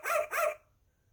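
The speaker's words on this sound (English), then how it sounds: "Just in case Piggy needs to hear Foo-Foo one last time, make Foo-Foo bark." A toy sound book plays a recorded dog bark: two quick, bright, slightly tinny yaps in close succession, then quiet.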